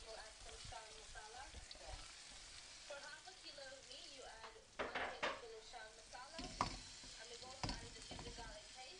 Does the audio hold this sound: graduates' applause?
no